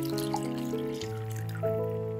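Water is poured from a measuring cup into a rice cooker bowl holding rice. It makes a close, steady trickle with gurgling tones that shift in pitch as the bowl fills, and there is no talking.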